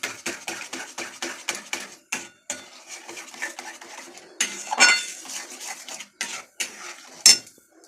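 A spoon scraping and clinking against a pan while homemade vegetarian tomato sauce is stirred, with quick repeated metallic taps in bursts and a few louder clanks, close and fairly quiet, no voices.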